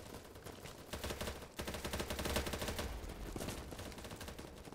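Sustained automatic gunfire in BattleBit Remastered, a dense run of rapid shots with a brief pause near the start, then continuous loud bursts.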